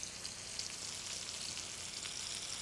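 Loin strip steak searing in a chafing dish, a faint, steady hiss and fine crackle of fat sizzling, continuous and even without any talk.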